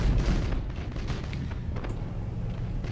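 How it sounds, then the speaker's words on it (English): Torpedoes striking a ship in the Battlefleet Gothic Armada space combat game, a rumbling series of deep booms and thuds that start heavy and keep churning at moderate loudness. "Oh, torpedoes hit."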